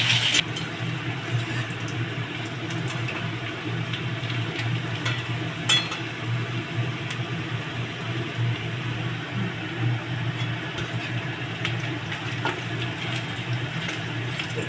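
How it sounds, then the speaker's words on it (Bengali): Onion and garlic frying in oil for khichdi, a soft steady sizzle with occasional stirring clicks under a low continuous hum, close and fairly even throughout. "পেঁয়াজ রসুন একসঙ্গে দিয়ে দিলাম, ভাজা ভাজা হবে"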